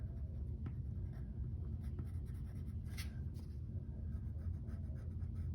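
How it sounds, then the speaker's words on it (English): Colored pencil drawing brown lines across paper to mark the lid of a dumpster in a perspective drawing, a soft continuous scratchy rubbing with brief stroke accents, close and steady with no talking. "I'm going to just draw some brown lines here."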